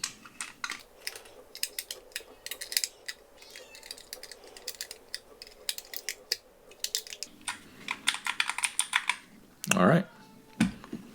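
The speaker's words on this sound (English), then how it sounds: "and put our switches back in." Keyboard switches being pressed into a nullbits Scramble macropad case, a steady run of close, sharp plastic clicks and taps that thickens into rapid bursts, with one brief louder knock near the end.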